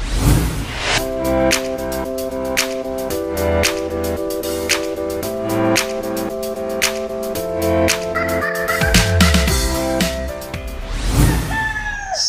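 Loud, busy clucking and crowing from many chickens at a poultry farm, overlapping calls throughout with a few sharp cries standing out.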